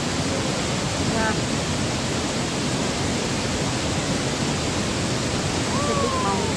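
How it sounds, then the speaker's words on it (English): A waterfall at Langvoku in Karbi Anglong roars as a dense, constant broadband rush, steady and fairly loud throughout, with faint bird calls and a voice barely showing beneath. "And I have to climb a little bit downside and see the waterfall."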